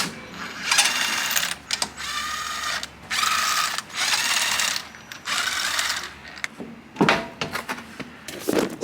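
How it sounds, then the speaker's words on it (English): An impact wrench spins off wheel lug nuts on a 2008 Tesla Roadster in bursts of loud rattling hammering, about six short runs separated by brief pauses, close and without talking. "so now I'm just going to use the impact to get them off"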